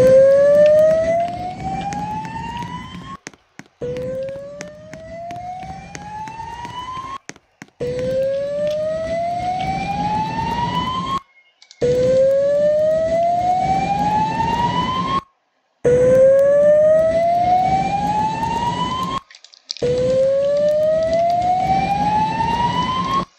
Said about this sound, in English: The signal you have just heard indicates a report of an emergency in this building.